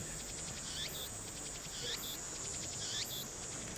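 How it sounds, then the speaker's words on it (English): Loud cicadas in the Steins;Gate video game, a dense steady buzzing drone with repeated rising chirp calls about once a second, no talking. "These cicadas are so loud, holy shit!"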